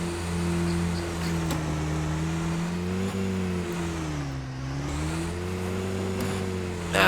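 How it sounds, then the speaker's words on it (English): Off-road vehicle in the hunting game Call of the Wild: The Angler pushing through bush, its mid-pitched engine droning steadily and rising and falling with throttle for several seconds, loud and close with no talking. "I'm just driving through the bush at this point"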